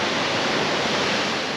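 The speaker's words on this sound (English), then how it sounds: "Good little spot for the waterfall." A waterfall in the Scottish countryside roars as a constant, dense rush of falling water, loud and close, with no voices or breaks.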